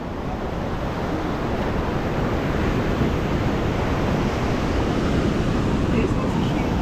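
Ocean waves wash against rocks right at the water's edge, a loud continuous roar of surf mixed with wind buffeting the microphone, steady throughout without clear breaks between waves.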